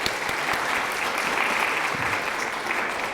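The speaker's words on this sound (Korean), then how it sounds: "환영의 박수 하겠습니다" Steady, dense applause from a church congregation welcoming a new member during Sunday worship, a full crowd clapping continuously at close range for the whole stretch, with no talk over it.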